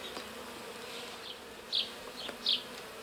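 Honeybees buzz faintly inside a small nucleus hive during frame adjustment, a low steady hum with a couple of brief louder passes of bees flying close by.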